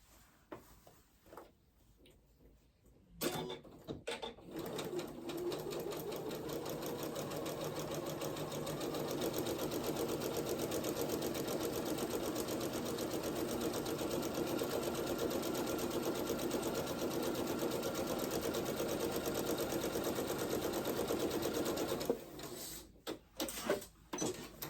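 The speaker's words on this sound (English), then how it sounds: "So stay stitching is just make your, just a regular stitch." A sewing machine runs a steady stay stitch along a garment bodice piece for a New Look N6719 pattern, a continuous close whirring hum lasting about twenty seconds, with a few clicks and handling noises before and after.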